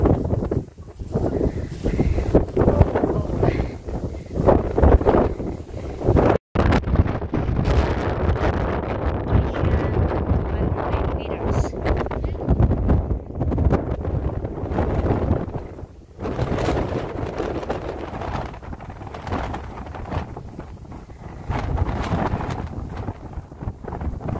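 Strong wind on the summit of Mount Johnston, Hong Kong, roars and buffets the microphone nonstop, loud broadband rumble with gusty swells and a brief dropout, no voices.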